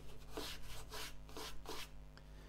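A pad of old Scotch-Brite scrubs the end grain of a turned casuarina wood bowl in several quick, rasping back-and-forth strokes, close and fairly quiet.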